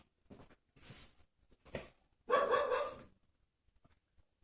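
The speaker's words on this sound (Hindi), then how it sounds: "ये कुत्ता ही भौंक रहा है" A dog barks several times in short, uneven bursts, with the last and longest bark the loudest, the sound fairly close and standing alone between quiet gaps.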